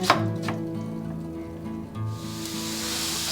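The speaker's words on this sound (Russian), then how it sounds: "Как и другие овощи для этого супа, нарезаем мелко." Sweet bell pepper being finely chopped on a board for a Bulgarian soup, a quick run of knife taps at the start giving way to softer cuts and a rising sizzle-like hiss.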